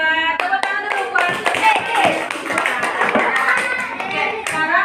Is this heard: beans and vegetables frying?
no